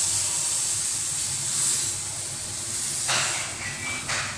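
Besan cheela batter hitting a hot oiled tawa, a steady close hiss and sizzle that holds throughout with a brief brighter crackle partway through.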